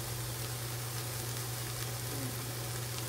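Jambalaya cooks on a stovetop pan, giving off a soft, steady sizzle and crackle that holds evenly from start to finish, close by and moderately quiet over a faint low hum.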